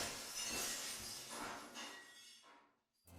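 Window glass shattering with heavy reverb applied, a faint washed-out crash that smears into a long echoing decay before a brief new sound at the very end.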